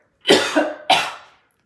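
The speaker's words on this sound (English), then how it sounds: "it just makes me cough like crazy" Two sharp, loud coughs in close succession, close to the listener, with no other sound around them.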